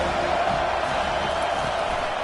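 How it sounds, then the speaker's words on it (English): A college football stadium crowd in CFB 25 roars in a steady, dense wash of cheering and whooping, continuous and fairly loud throughout. "This crowd bringing the energy and noise early"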